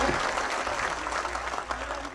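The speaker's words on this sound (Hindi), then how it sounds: "एक बार जरा पूरा सदन इस नौजवान शायर को ताली बजाकर इजाजत दीजिए" A mushaira audience claps for a young poet, with dense, steady applause filling the hall without a break.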